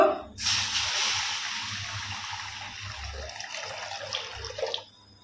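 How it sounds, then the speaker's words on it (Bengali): Water streams steadily from a tap into a cooking pan (kadai) for several seconds, a bright continuous splashing rush that tapers and stops near the end, close and alone. "কড়াতে জল দিয়ে দিব"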